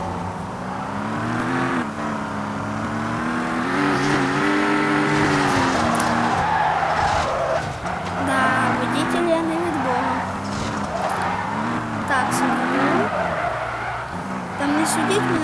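Car driving off and racing around a stadium, engine droning and revving through shifting pitch with tire squeals and skidding, loud and continuous, with someone talking over it throughout.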